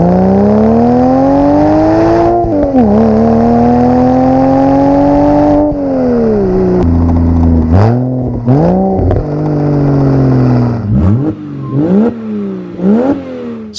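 A Porsche Boxster engine revs hard through its exhaust, a loud sustained roar that climbs and holds, then breaks into a series of sharp blips and drops toward the end.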